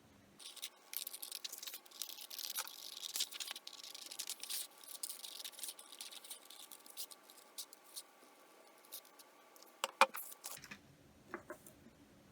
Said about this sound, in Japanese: これをハサミで切り取っていきます。